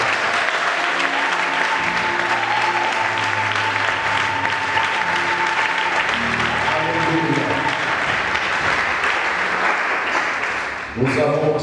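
A church congregation bursts into sustained loud applause and cheering in worship, dense clapping filling the room for about eleven seconds with voices calling out over it, fading near the end.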